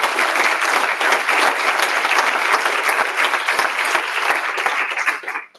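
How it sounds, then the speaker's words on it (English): Audience at a membership meeting applauding, a dense, loud burst of many hands clapping together that holds steady for several seconds and then quickly fades out at the end. "Can we clap for Mike James?"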